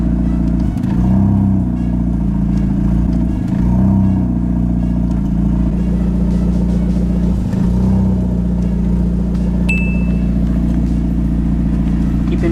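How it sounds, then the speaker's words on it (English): A tuned engine with no lift shift ignition cut idles and revs loudly. It stutters briefly several times as the ignition cuts and then recovers to its earlier RPM, with a faint mechanical clatter throughout. "The ignition will be cut and the engine will stutter quickly and return to the original RPM."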